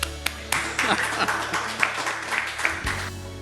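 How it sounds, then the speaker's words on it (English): A conference audience at a MODXpo 2022 talk claps in scattered, uneven bursts over about three seconds, the sharp hand claps close and moderately loud, with a speaker's voice running through it. "Clap, it's magic."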